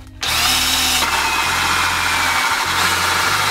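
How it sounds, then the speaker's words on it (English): A cordless drill spins a hole saw through wood with a loud, steady whining drone right up close, the motor pitch shifting slightly as it bites, and no talking. "this is a hole saw"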